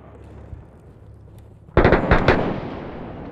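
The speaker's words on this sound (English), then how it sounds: "Nice shooting, whoever that is." Gunfire in the Six Days in Fallujah combat game: a sudden loud burst of several sharp shots at close range after a quieter stretch of ambient background, cracking in quick succession.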